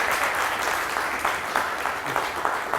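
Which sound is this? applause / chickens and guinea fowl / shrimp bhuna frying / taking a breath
applause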